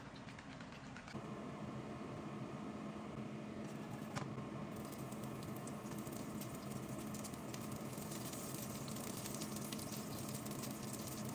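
Beaten eggs are poured into a hot pan and sizzle. A bright, crackling frying hiss starts after a moment, then continues evenly and close with occasional pops.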